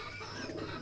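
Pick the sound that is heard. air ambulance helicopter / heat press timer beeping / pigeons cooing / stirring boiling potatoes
pigeons cooing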